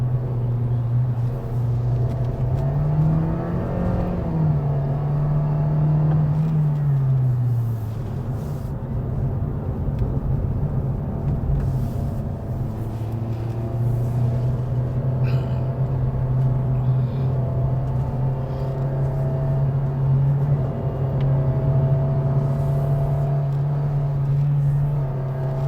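A 2023 Toyota Vios engine drones steadily as the car climbs a crowded mountain road at Genting, its pitch rising and falling with throttle changes, a constant interior rumble over road noise with no talking.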